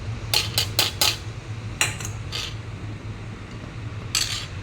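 A spoon stirring a pot of misal, with several quick metallic clinks and scrapes in bursts over a low steady background hum.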